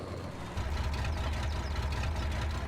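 Tractor engine idling in Farming Simulator 22, a steady low, throbbing rumble with a slight knock that grows a little louder after a brief moment and then holds evenly close up, with no talking.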